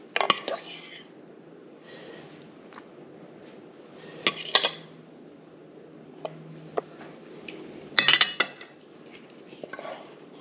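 Canned sardines set onto a plate, with scattered clinks and scrapes of cutlery against dishware, several bursts near 0.5, 4.5 and 8 seconds over a quiet room hum, with soft low voices in places.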